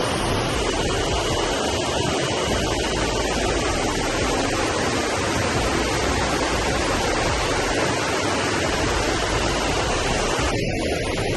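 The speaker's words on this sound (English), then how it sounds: "I just came across this random river." A river rushes past a trail in a dense, continuous hiss of flowing water, loud and close and steady throughout, with no voices.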